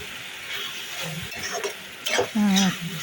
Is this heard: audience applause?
no